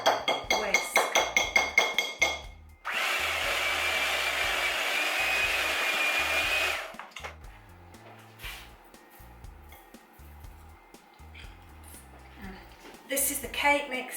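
An electric hand mixer running on a single whisk through cake batter for a birthday cake, a steady whirring drone lasting about four seconds between clattering kitchen sounds and brief speech.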